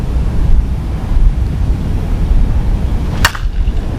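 Strong wind blowing across an outdoor softball field, a steady rumbling roar of gusts buffeting the microphone throughout, with one brief sharp click near the end.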